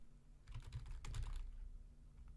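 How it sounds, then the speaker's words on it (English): Fingers tap quickly on a computer keyboard, a brief cluster of crisp keystrokes about a second long, close and fairly quiet, with no one talking. "Pretty good typing here."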